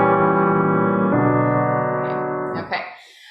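Sustained keyboard-like chords demonstrate a fully diminished seventh chord tonicizing the six chord, two held harmonies played close and clear, then cut off by a brief noise near the end.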